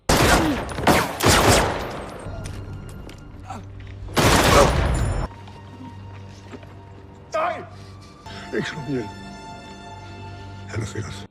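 Loud bursts of automatic gunfire tear through a film fight scene as a seized weapon is turned on a gangster gang, heavy volleys at the start and again midway, with a narrating voice and quieter shots later.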